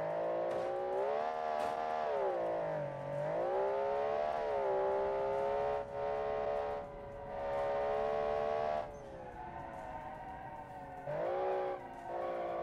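A Group B rally car engine in the BeamNG driving game, revving high toward a roughly 9500 RPM redline, with rising and falling harmonic whine through repeated gear shifts and brief lifts, loud and continuous.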